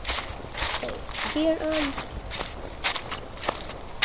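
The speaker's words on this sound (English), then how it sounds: "I hear footsteps and leaves crossing." Footsteps crunch through dry leaves on a forest floor in a loose, uneven rhythm at a moderate distance. A voice briefly speaks over the steps.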